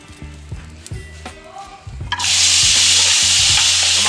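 Tomatoes are stirred into a pan of fried chilies. A few scrapes and stirs come first, then a loud, steady sizzle that bursts up and holds to the end.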